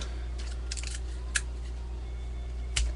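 Scissors trimming old scanned photos for scrapbooking, with a few crisp, isolated snips spaced apart over a low steady hum, close and fairly quiet, with no talking.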